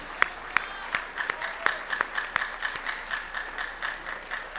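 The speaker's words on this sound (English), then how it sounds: "Let's give these students a round of applause" A small audience claps for honor graduates at a senior class awards ceremony. The clapping is sparse, with distinct individual claps standing out over a soft crowd patter.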